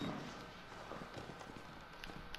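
Footsteps in the horror video game Outlast, set in an asylum, a soft irregular series of thuds over a dark ambient background, fairly quiet.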